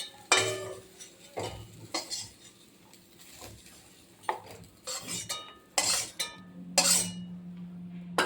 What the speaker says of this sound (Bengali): এবার সয়াবিনটাকে আমি এবার একটা বাটিতে তুলে নিচ্ছি